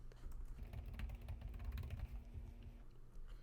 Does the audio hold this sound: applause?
no